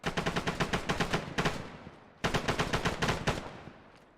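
Sustained automatic gunfire from a machine gun in the military shooter Arma 3, loud and close, two long bursts of rapid evenly spaced shots separated by a brief pause.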